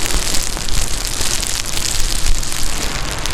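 Rain falls hard around someone riding an Inmotion V14 electric unicycle, a loud, steady hiss and patter that fills the whole stretch with no talk.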